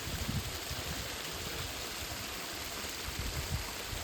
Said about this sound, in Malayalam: കനാലിൽ കൂടെ വെള്ളം കൊണ്ടുപോയിട്ട് കൃഷിക്കൊക്കെ കൊണ്ടുപോകുന്നതാണേ